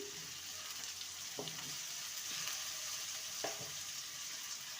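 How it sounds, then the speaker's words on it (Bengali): Cut potato pieces frying in hot oil for a drumstick curry, a steady close sizzle with a couple of soft stirring clicks, no talk. "আলুটাকে ভালো করে ভেজে নেব"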